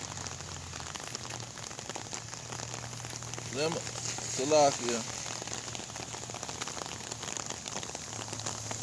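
Steady rain falls on surfaces outdoors at a camp, a constant close hiss and patter that runs throughout while someone speaks briefly partway through.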